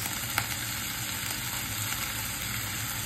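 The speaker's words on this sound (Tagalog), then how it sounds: "tapos gisa natin itong ating spinach" Spinach sautéing in a hot pan makes a continuous, even sizzle with a faint tick near the start and no one speaking.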